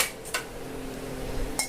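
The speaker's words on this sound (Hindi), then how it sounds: "चावल में करछी हिला देती हूँ" A metal ladle clinks against a pressure cooker pot of cooked rice, with a couple of sharp isolated knocks over a quiet kitchen hum.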